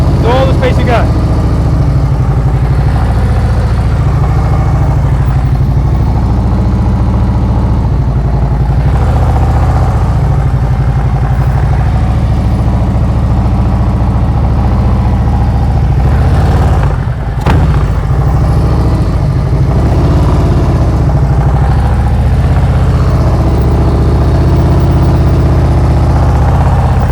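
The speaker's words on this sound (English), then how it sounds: "So another reason I like this new exhaust is it's more pronounced." A motorcycle with a new aftermarket exhaust burbles steadily at low speed during slow-speed riding practice, a loud, continuous low-pitched engine note with slight throttle changes, while someone talks over it throughout.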